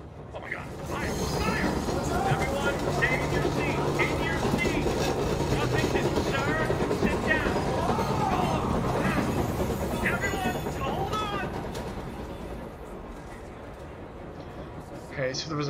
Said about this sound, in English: Train crash.